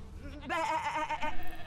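A single sheep's wavering bleat, close and clear, lasting just over a second against a quiet background.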